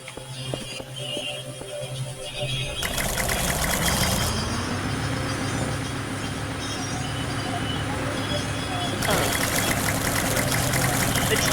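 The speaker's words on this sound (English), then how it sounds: "It's the gas pump getting a run for its money" A steady engine-like drone from a gas pump in the video game Garry's Mod runs continuously and loudly, surging in intensity partway through, with a low mechanical rumble throughout and no speech.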